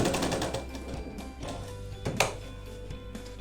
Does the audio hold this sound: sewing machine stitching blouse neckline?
yes